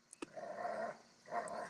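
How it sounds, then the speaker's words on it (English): A neighbor's dog gives a pair of low, drawn-out growling barks separated by a short pause, heard at moderate distance outdoors with a couple of sharp ticks before them. "And that's our neighbor's dog."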